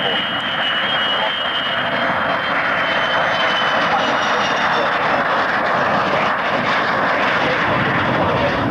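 A military jet flies at the RAF Coningsby airshow, its engine roar a loud, steady broadband rush that holds throughout with a faint high whine, as a commentator talks over it.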